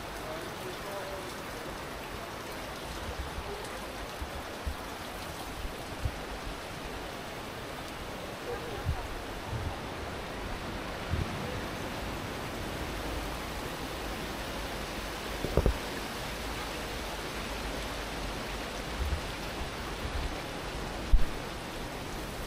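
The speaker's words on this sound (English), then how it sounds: "This water wheel is one of the two water wheels that can be seen in the village." A water wheel turns in flowing water in the village of Fontaine-de-Vaucluse in Provence, giving a continuous, even wash of rushing and splashing with a few brief knocks.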